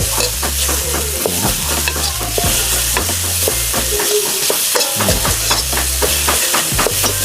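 Lemongrass and aromatics being stir-fried in a pan make a loud, close sizzle, driven by quick rhythmic scrapes and clacks of a spatula against the pan, with no talking.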